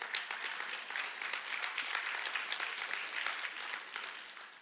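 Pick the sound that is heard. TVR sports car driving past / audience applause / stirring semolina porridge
audience applause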